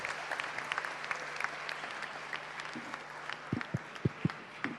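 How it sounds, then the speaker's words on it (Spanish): Scattered applause for children at a citizen dialogue session with the three branches of government, sparse and fairly faint at first, then a few louder, sharper claps near the end. "démosle un aplauso a los niños y niñas que están también en la sala de sesiones"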